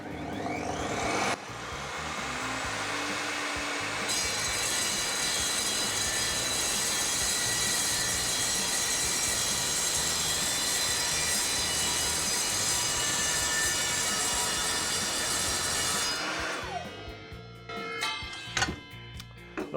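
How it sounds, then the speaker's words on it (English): A mitre saw cuts through clamped metal stock, a steady loud whining grind with a metallic ring that holds for about fifteen seconds before the blade spins down, with no talk. "we just bring the saw down, we chop from above with the teeth going in at a downward angle"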